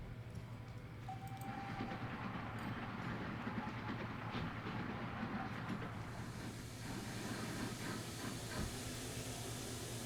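Trains pulling into a station in the video game Transport Fever 2, a steady rolling rumble with hissing and faint clickety-clack running continuously, with a brief whistle-like tone early on.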